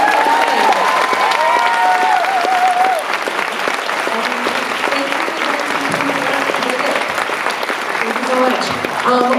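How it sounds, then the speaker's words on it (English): An audience at a university speaker-series event gives Tegan and Sara loud, sustained applause with some cheering, while voices talk over the dense clapping. "a round of applause for Tegan and Sara"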